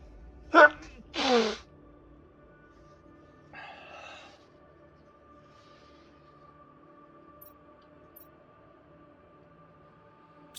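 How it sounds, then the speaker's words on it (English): A person sneezes during a session of the survival game Planet Crafter: two sharp, close bursts about a second into the clip, then a faint breathy sound and quiet game ambience. "I do have a sneeze coming on."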